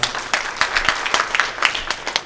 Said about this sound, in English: Please a round of applause to Emily, the Secretary General